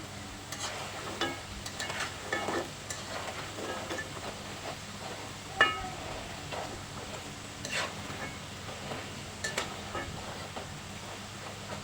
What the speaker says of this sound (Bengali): একটু সময় নিয়ে ভাজতে হবে, তাহলে অনেকটা মুচমুচে হবে